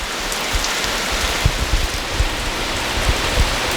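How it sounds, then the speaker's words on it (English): Heavy rain pouring down steadily over a yard with a gravel area, a dense constant hiss with scattered louder drop impacts, no voices. "It was literally downpouring."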